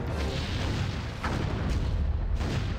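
Deep rumbling explosion of an enemy starship destroyed in a Star Trek ship battle game, a loud continuous roar with a brief sharper burst in the middle.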